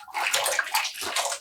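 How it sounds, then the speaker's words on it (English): A skein of yarn plunged into water, giving a loud, close, continuous sloshing and splashing that swells in two surges over a brief moment. "just by dunking it in water"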